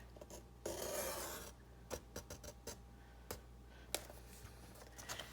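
Paper being cut by hand for a framed tag pocket, a long rasping stroke followed by several short scraping ticks, close and fairly quiet, with no talking.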